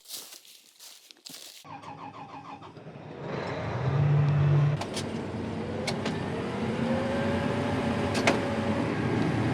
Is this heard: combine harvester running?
yes